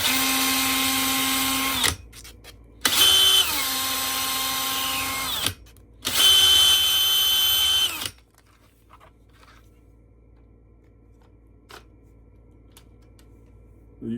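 A power drill boring pin holes at a workbench whirs loudly in three sustained bursts of about two to three seconds each with short pauses between, then goes quiet apart from faint clicks and handling.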